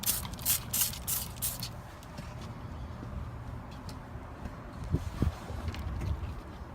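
Several quick hissing bursts of leak-test solution sprayed on an air-brake airbag of a truck, close at first and then giving way to steady low rumble with a couple of faint knocks.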